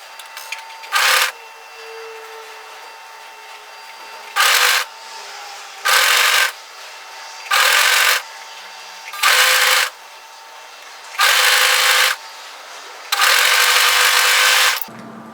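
Overlocker sewing the underarm seam of a longline hoodie in seven separate bursts of steady whirring stitching, each a second or two long, with quiet pauses between them.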